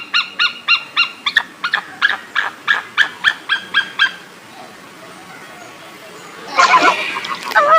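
An eagle gives about fifteen sharp, evenly spaced yelping calls in a rapid run, then falls quiet before a louder, denser burst of sound near the end.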